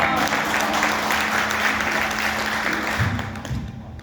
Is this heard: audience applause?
yes